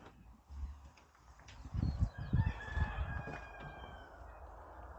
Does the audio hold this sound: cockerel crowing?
yes